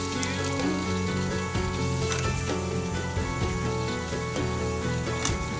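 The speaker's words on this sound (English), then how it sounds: "Add the tomatoes and the onions." Tomatoes and onions hit hot oil with eggs in a frying pan, giving a steady, crackling sizzle that runs throughout, partly under background music.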